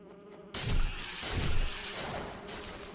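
A buzzing bee-like creature in the Demon's Souls video game starts abruptly and drones on loudly and close, a sustained insect hum over low game rumble.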